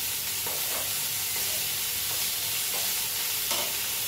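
Moong dal sautés in a pan with drumstick leaves, giving a steady, loud sizzle and hiss throughout, with occasional soft scrapes of a stirring spoon, close up and without voices.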